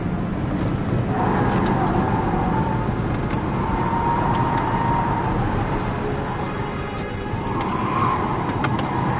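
A car drives along at steady speed, its engine hum and road rumble forming a loud, continuous drone that lasts the whole stretch with no voices over it.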